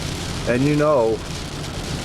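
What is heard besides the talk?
rain falling during a drive home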